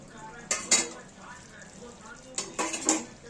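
A lid comes off a pan of slow-cooked Kolkata chicken chaap, giving a couple of sharp metallic clatters against a faint simmer, then a second pair of clinks a moment later.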